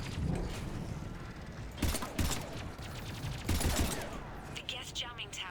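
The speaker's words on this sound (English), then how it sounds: "let's try out this exploding singularity" An exploding singularity biotic power in Mass Effect 3 erupts amid combat, with sharp bursts and crackling blasts at intervals over steady battle noise, and someone talking underneath.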